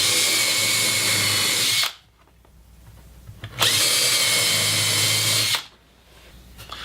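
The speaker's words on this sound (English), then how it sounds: "use my countersink bit to make some holes" A power drill with a countersink bit bores holes in wood for a birdhouse, two loud sustained whirring runs of about two seconds each, separated by a quieter pause.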